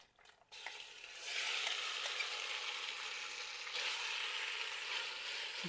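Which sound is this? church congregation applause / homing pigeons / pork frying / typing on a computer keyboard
pork frying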